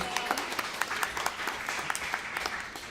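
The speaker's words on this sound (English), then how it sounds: "can you give Stephanie a round of applause, please?" Small audience at Heritage Hill North applauding a guest, scattered sharp hand claps in a modest round, fairly faint and distant, with talk continuing over it.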